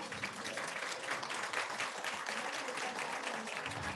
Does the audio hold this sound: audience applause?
yes